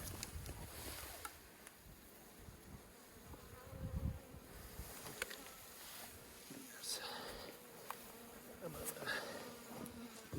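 A dense, steady hum of many honey bees buzzing close by during a late-winter hive inspection, with occasional soft knocks and rustles.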